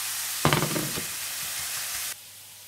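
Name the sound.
frying in a pan on the stove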